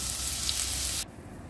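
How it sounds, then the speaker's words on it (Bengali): Whole spices and grated ginger fry in hot oil for a bottle gourd dish, a loud close hiss of sizzling that cuts off sharply about two-thirds through, leaving a quieter background. "ফোড়নটা একটু ভাজা হয়ে এলে এর মধ্যে আমি আদা গ্রেট করে দিয়ে দেবো"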